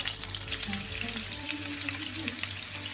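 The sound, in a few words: meatballs frying in a pan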